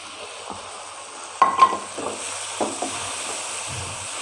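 A village-style eggplant and potato curry cooks in a pan after tamarind water is added: a soft, steady sizzle with a few sharp stirring scrapes and clinks near the middle.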